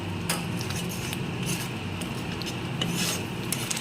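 Spice paste being stirred and fried in a pan for a jackfruit curry, with repeated rasping scrapes of a spatula against the pan over a steady sizzle, close and fairly loud, with no talk.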